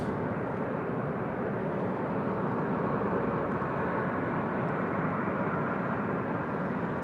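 A Qantas jet arriving at LAX on runway 24 left makes a steady, broad, distant roar that holds evenly throughout, with no talking.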